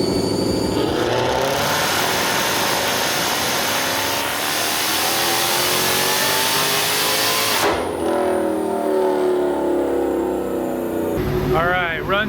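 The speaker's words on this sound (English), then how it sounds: "We're gonna do run 2, and then run 3 with the valves open." Dodge Hellcat with a Formula Z exhaust pipe on a dyno pull, a loud engine roar climbing steadily through the revs, then dropping off as the throttle closes, with a whine of spooling fans and a voice near the end.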